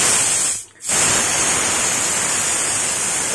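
A pressure cooker, cooking chicharong bulaklak, releases steam in a loud, steady hiss close by. The hiss cuts out for a brief moment near the start, then continues unbroken.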